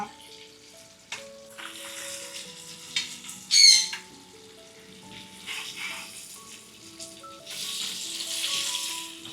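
Tilapia fish fries in a pan with a soft intermittent sizzle, while pet birds chirp and one gives a sharp squawk nearby.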